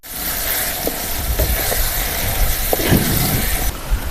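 Crushed ginger-garlic paste hits hot oil with sautéed tomatoes in a pan for a village-style brinjal oil gravy, giving a steady, loud hiss and sizzle with faint crackles throughout and no talking.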